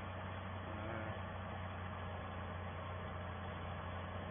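A farm tractor's engine runs with a steady, muffled low drone, close by and unchanging, with no speech.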